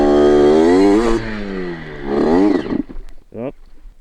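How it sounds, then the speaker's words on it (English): A Derbi Senda off-road motorcycle engine drones loudly, dips, then swells again before sputtering and dying out as it stalls. Close by, with a brief faint rasp after the engine cuts. "first stall of the day"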